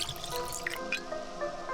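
Muddy water being collected into a container in the video game Pathologic 2, a quick run of wet drips and squishy liquid sounds followed by a short filling gurgle, close and fairly quiet.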